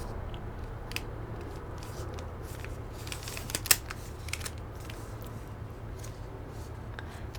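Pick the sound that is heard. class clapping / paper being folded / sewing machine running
paper being folded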